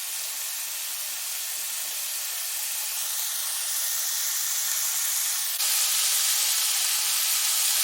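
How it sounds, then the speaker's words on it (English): Continuous loud sizzling and hissing of kielbasa sausage frying in a pot for jambalaya, steady and close, growing slightly louder toward the end. "You can hear that the kielbasa has started to fry"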